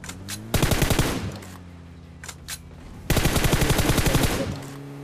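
Two loud, rapid bursts of automatic gunfire ring out in the mobile shooter game PUBG Mobile Lite, with fainter scattered shots between them.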